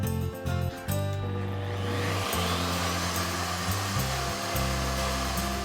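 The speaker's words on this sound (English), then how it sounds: "Since I'm doing a plunge cut with my router, I'm going to adjust the depth gauge" A plunge router cutting an inlay channel into a board first whines up in a few short bursts, then settles into a loud, sustained high-pitched motor scream as the bit bites into the wood, heard alone.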